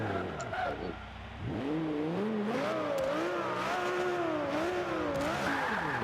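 Racing car engines roar in Forza Motorsport 5 on Xbox One. A loud, close engine climbs and falls in pitch through gear changes, with faint tire squeal mixed in.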